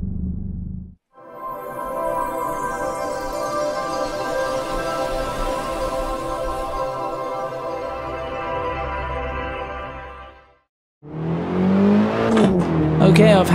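BMW E30 M3 engine in Assetto Corsa on the Nordschleife, a steady high-revving drone with strong harmonics holding for about ten seconds, then cutting out briefly before a rougher revving burst returns near the end.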